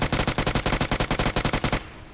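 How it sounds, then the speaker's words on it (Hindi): Rapid automatic gunfire in the mobile shooter BGMI, about fifteen evenly spaced loud shots in a fast burst that stops abruptly, leaving a quiet tail. "पता नहीं गोली चलाई मैंने बंदे के ऊपर ही"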